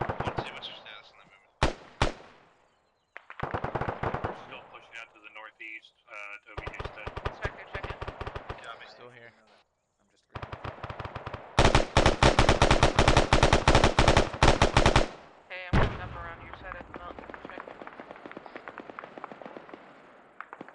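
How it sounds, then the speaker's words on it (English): Gunfire in the military video game Arma 3, with rapid machine-gun bursts and single shots in loud clusters separated by short gaps, including one long sustained burst, alongside radio-style voice chatter. "Nomad 4 is firing rounds at this time"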